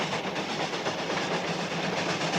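Passenger train called the Cannonball rumbling steadily on its rails as it slows, a continuous broadband clatter and hiss up close with faint clickety-clack rhythm and no voices.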